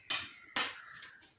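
Utensil scraping and clinking against a bowl while mixing egg batter for a Kerala egg chattipathiri, two distinct close knocks followed by softer trailing scrapes, with no talking.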